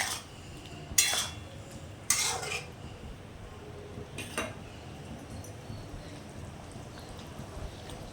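Fried pointed gourds stirred in a cooking pan give a few faint, scattered metallic clinks and scrapes of a spatula on the pan, separated by quiet stretches with low background hiss.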